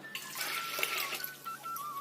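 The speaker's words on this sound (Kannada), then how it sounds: "ಈಗ ತೊಗರಿ ಬೇಳೆನ ತೊಳಿತೀವಿ." Tap water runs steadily for about two seconds while tuvar dal is washed in a home kitchen for bele obbattu, a soft, continuous splashing stream with no talk over it.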